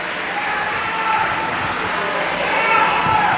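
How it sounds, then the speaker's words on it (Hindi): A large crowd at a Shiv Mahapuran religious discourse in Malegaon claps loudly and steadily, a dense continuous wash of applause with murmuring, swelling slightly toward the end. "एक बार इनके लिए जोरदार ताली बजाओ।"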